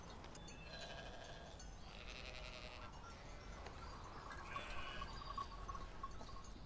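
Sheep bleat over a steady outdoor background in a pasture scene, with repeated calls rising and falling across the stretch, moderately loud and without speech.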